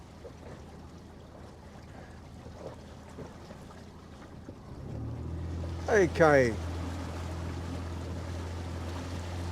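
Outboard motor on a small boat leaving an inner harbour, rising from a low rumble to a steady drone with a quick rising whine of revs as it pulls away, with a brief spoken word.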